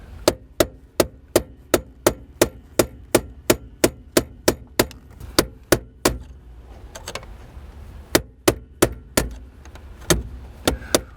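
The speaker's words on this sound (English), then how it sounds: "I take a hammer and a punch and knock them out in a counterclockwise direction" Repeated sharp metallic hammer strikes on a punch, knocking out the steering column bolts of a Honda at a salvage yard, in a steady close rhythm of about two blows a second with a brief pause midway.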